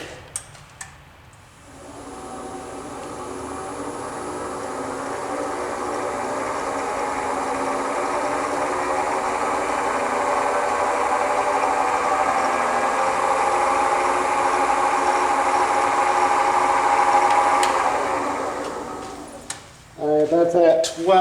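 A wood lathe turning a bowl blank is raised to about 1200 RPM, its steady motor whine and hum rising and holding for most of the span, then cutting off near the end with a brief clunk.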